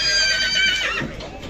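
A draft horse at a horse market whinnies loudly and close by, a high wavering neigh that drops and fades into lower snorting toward the end.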